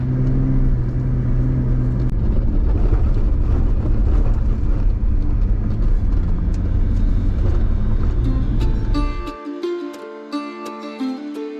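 A car climbs a mountain road toward the Cody ghost town, its engine and tyre rumble loud and steady for about nine seconds before cutting off abruptly, after which a quieter tonal sound continues.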